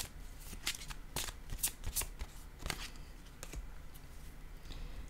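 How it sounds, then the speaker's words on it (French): Tarot cards are shuffled and set down in a steady run of soft riffles, flicks and taps, quiet and close, with no voices. "Je vais déposer une carte sur la zone du mensonge."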